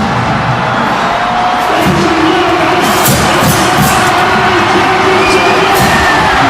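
A high school football crowd at a 5A game in South Louisiana cheers loudly and continuously, a dense roar of shouts and whoops that fills the whole stretch.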